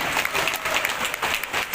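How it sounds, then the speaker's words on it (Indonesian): Applause at a university graduation ceremony for UIN Jambi, a dense steady clapping from a large seated crowd that fills the whole short stretch without pause. "Tepuk tangannya mana?"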